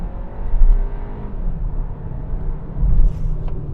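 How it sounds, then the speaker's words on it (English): A 2025 Hyundai Kona AWD engine revs under full throttle in second gear: a steady, loud engine drone that swells and surges toward the end, with no talk over it. "If we do shift down to say 2 and floor it, let's listen to that motor."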